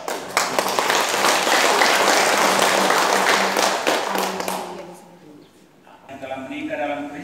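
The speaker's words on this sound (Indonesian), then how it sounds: "Kita memberikan aplaus kepada Bapak." Wedding guests applaud inside a church during a nuptial blessing mass, a loud, dense round of clapping lasting about four seconds before fading, then a voice speaking over the room.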